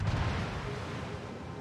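A ship's gun fires in a naval video game aboard the Cossack destroyer, a single deep boom at the onset that rolls off into a low, fading rumble.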